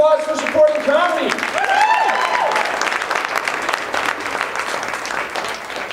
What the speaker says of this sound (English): Give yourselves a round of applause for supporting comedy.